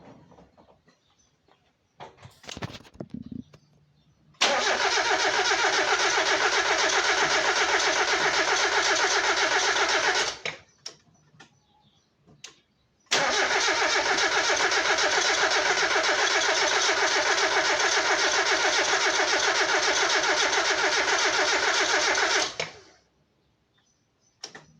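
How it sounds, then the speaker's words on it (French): Mazda MX-5 engine running on E85 fuel through an add-on conversion box: after a brief starter crank, it fires and roars loudly for about six seconds, cuts out, then starts again and runs steadily for nearly ten seconds before shutting off. "Donc là on fait un essai de démarrage."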